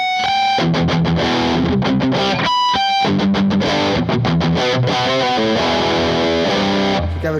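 Epiphone Flying V electric guitar in 70s Maui Blue played loud through heavy distortion, with chugging palm-muted riffs, rhythmic stops and sustained chords, close and continuous with no talking.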